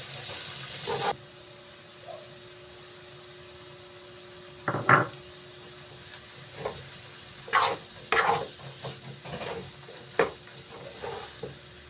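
A spoon scrapes and stirs a milkfish filling in a pan, scattered short clinks and scrapes in irregular bursts over a faint sizzling hiss, close and moderately quiet.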